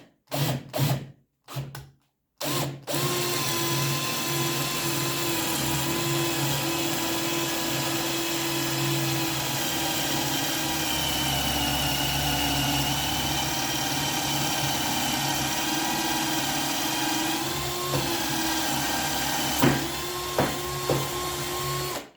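A Black+Decker BDASB18V two-speed hammer drill with a 10mm wood bit starts with a few short trigger bursts, then whirs steadily and loudly through the wood for a long stretch before winding down with brief blips.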